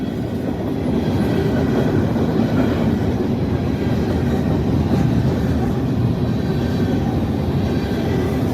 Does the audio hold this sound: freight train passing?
yes